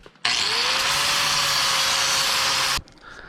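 A power grinder bites into welded steel rear shock mount brackets in one loud, continuous whining burst of about two and a half seconds, starting and stopping abruptly, with no talking.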